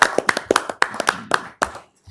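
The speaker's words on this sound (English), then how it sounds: "A round of applause for everyone." Brief applause at a city council meeting, a few hands clapping up close in a quick, uneven patter for about two seconds before trailing off.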